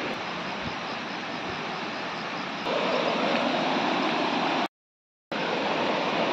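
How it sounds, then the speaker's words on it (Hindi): Cold water rushes steadily over rocks at a hidden waterfall in Bhadra Tiger Reserve at night, a loud continuous broadband roar that grows stronger partway through, briefly cuts out, then returns. "यहाँ पे आ गया बहता हुआ पानी,"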